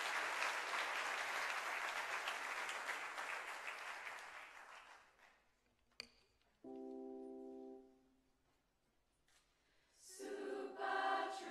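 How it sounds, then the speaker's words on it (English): Audience at a school house music performance applauds, a dense crowd clapping that fades out, followed by a sustained tone and more noise. "Please give them a round of applause."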